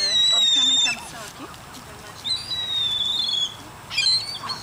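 Birds calling outdoors where ducks were being watched, with bright chirping calls in three bursts against a steady background and faint voices now and then.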